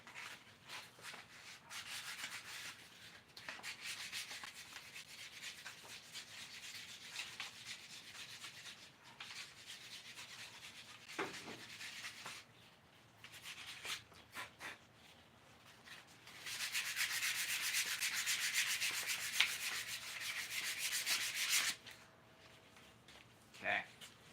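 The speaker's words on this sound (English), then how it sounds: "now let's get some sandpaper." Sandpaper rubbing by hand on a wooden war scythe being shaped, a steady scratchy rasp that comes and goes in strokes, growing louder and more continuous toward the end, with brief pauses between passes.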